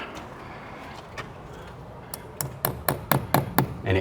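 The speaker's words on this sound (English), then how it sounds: "And I take my hammer here," A hammer drives a screw partially set in a plastic anchor into a pre-drilled hole during an outdoor pool wall faux wood slat install: about eight sharp, close taps in a quickening rhythm after a quiet start.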